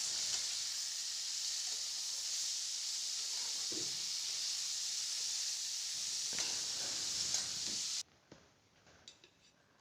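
Chopped spring onions fry with spices in a pan, giving a steady hissing sizzle with a few soft stirring knocks before the sound abruptly drops to quiet faint clatter.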